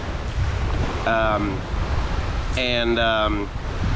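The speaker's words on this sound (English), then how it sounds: "hopefully you can hear the ocean" Ocean surf roaring steadily with gusty wind noise hitting the microphone, a continuous broadband wash throughout, with brief tonal voice or sound bursts rising over it twice.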